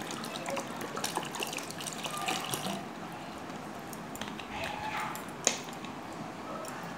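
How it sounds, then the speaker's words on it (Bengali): Cold water pours from a bottle into a bowl of sugar and salt, a faint steady gush and splash that settles into quieter trickling, with one small knock near the end. "তো ঠান্ডা জলটা দিয়ে দিচ্ছি।"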